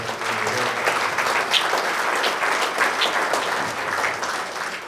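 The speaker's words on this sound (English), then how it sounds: "So if we could give a round of applause." An audience at a hall of fame event applauds, a dense, sustained clatter of many hands clapping close and loud throughout.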